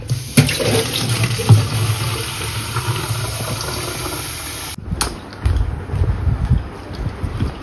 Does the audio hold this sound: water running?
yes